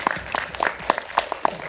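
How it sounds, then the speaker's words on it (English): Applause for Jackson Health System, title sponsor at a Miami-Dade Chamber of Commerce event: a brief burst of scattered, uneven claps from a modest crowd, fairly close and moderately loud. "let's give them a round of applause"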